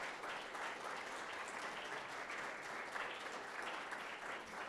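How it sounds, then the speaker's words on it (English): Sustained applause from an audience honouring women of a foundation, a steady dense wash of clapping held at an even level throughout, distant and without a clear speaking voice on top. "So I need to give a big round of applause."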